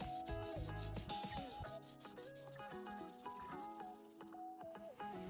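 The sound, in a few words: sanding both faces of a circuit board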